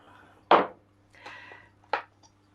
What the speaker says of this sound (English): we're going to cut them and cut them and dip them in oil very quickly